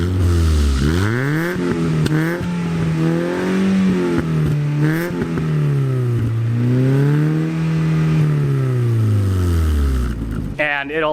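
A Mazda Miata with its exhaust resonator removed revs repeatedly, the engine note sweeping up and down in loud, close swells, with brief voices heard between pulls.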